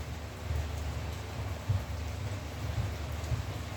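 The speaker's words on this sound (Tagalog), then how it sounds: "Maulan ngayon." Rain falling steadily in a continuous close patter, with a low rumbling texture and a few slightly heavier drops, with no talking.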